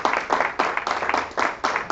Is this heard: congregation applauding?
yes